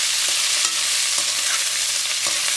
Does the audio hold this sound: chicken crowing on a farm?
no